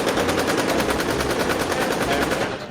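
Automatic weapons fire in a Roblox game rattles on without a break, loud and close, for nearly three seconds.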